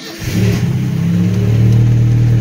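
A 1975 Chevy LUV engine with a struggling carburetor runs loudly and steadily close by, its low rumble rising as it revs, with no voices over it.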